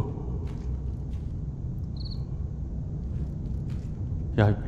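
Crickets chirp in the Thai horror video game Home Sweet Home. Short, staccato chirps ring out over faint ambient rumble, and a sharp burst sounds near the end.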